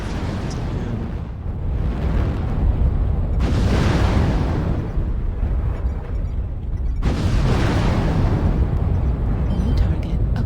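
A mech fires rounds at an enemy Blackjack mech in MechWarrior Online, heavy booming blasts in two big bursts with rumbling decay between them, and a voice talking underneath.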